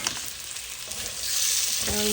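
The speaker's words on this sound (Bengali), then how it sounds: "মশলাটাকে ভালো করে একটু ভেজে নিচ্ছি" Spice paste fries with a continuous close sizzle while a spoon scrapes and stirs it around the pan, the hiss growing slightly louder toward the end.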